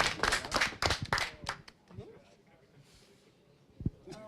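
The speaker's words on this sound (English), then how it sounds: "we can clap for each one" A small group claps in a short burst of sharp, quick hand claps up close during StarCraft 2 gameplay, then it fades to quiet room sound with a single tap later.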